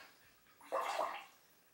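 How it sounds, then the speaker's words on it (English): A paintbrush used for decorating earthenware with slip is swished in a container of water, a single short gurgling slosh lasting about half a second, close and quiet with no talking. "I'm going to wet my brush."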